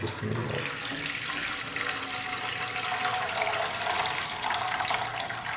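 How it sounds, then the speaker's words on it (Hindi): About four cups of water splash steadily into a pot for dal from close by, a continuous rushing pour lasting several seconds. "और इसमें मैं तकरीबन 4 कप पानी डाल रहा हूँ।"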